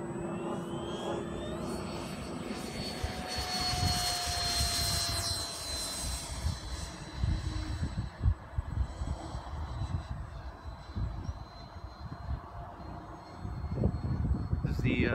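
A Freewing F-104 Starfighter model jet passes over the flying field with a rising and fading whine of its ducted-fan engine, while people talk nearby, over outdoor background noise.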